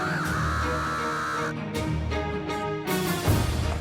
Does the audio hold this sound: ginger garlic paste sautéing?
no